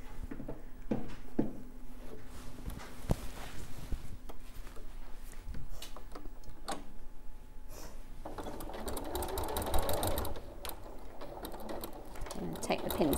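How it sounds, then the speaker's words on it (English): A sewing machine stitches along folded fabric lines with a soft, fast mechanical whir and patter that starts and stops in short runs, fairly quiet, with a person talking over it. "I'm going to go back to those extended lines and sew along this line."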